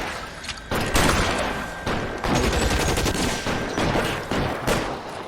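Shotgun blasts in the LA Noire crime game, a string of loud, booming shots fired one after another across a few seconds, each with a sharp crack and a brief rumbling tail.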